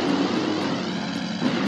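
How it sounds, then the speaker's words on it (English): An out-of-control plane in the Spider-Man 2: Enter Electro video game, a continuous droning engine hum with slight pulsing, steady and fairly close throughout. "That plane's out of control."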